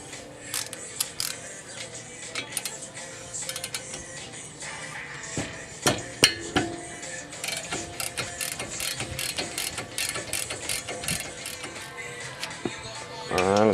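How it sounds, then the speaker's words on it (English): A 14 mm ratchet clicks rapidly in repeated bursts while loosening a brake caliper bolt on an 08 Lancer GTS during a brake pad job, close and crisp with brief pauses and no voices. "14 millimeter ratchet."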